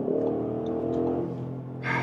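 A 2025 Audi SQ8 facelift with a V8 accelerates hard, a steady, rising engine roar heard from inside the car, loud and close, ending in a brief hiss of wind or tyre noise.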